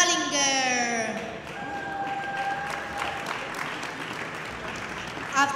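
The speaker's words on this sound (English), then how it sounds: "Big applause to the four classificated, Germany, Beer and Dallinger" Audience applause at a 50m prone mixed team rifle shooting final at a European Championship in Bologna, steady clapping from a crowd heard under an announcer's amplified voice.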